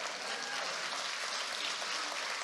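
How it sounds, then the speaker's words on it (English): A church conference audience claps, a faint, dense patter of many hands that holds steady throughout with no voices. "clap for that. That's something to clap for."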